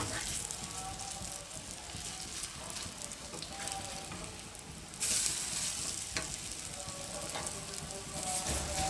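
Egg and potato fritters sizzle steadily on a tawa, a continuous close frying hiss with small crackles, briefly louder midway, with no talk over it.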